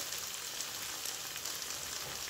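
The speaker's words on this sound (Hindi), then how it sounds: "और वेजिटेबल के साथ भी इसको दोबारा से भून लें।" Vegetables frying with spices in a pan for vegetable pulao, a steady soft sizzle with fine crackling, faint and continuous with no voices.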